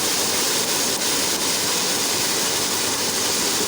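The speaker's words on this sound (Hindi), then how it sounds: "जैसे कि आपने देखा होगा इसमें थोड़ा सा पानी ऐड किया है" Water poured into a pot of cooking onions gives a steady, loud hiss and rush that lasts the whole short stretch, with no talking over it.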